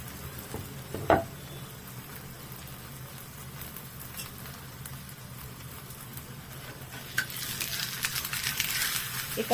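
A ragi and spring onion thalipeeth cooking in a little oil on a pan over a slow-to-medium flame: a quiet steady sizzle with a brief clink early on and a louder crackle toward the end.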